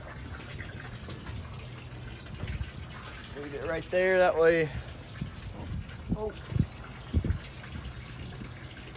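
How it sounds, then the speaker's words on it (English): Water running steadily while filling a cold plunge tub, a close continuous gushing trickle under a man's intermittent speech and exclamations. "The water's still running, that means it can still get up higher"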